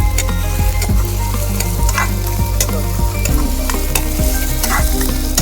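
Onion sizzling loudly in hot oil in a pan with whole spices, outdoors in a forest, while a utensil stirs and scrapes against the pan with intermittent clinks, steady and close, with no voices.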